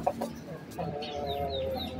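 A Brahma chicken clucking close by in a coop, a few soft clucks with short tonal calls and faint background sounds, a voice murmuring briefly under it.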